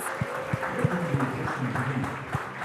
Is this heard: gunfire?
no